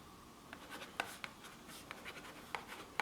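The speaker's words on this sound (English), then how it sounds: "What you should do on any food that you're going to freeze is write down what it is" Pen writing a label on a container of food to be frozen, with quiet scratchy strokes and a few sharper taps across a few seconds, close up with no talking.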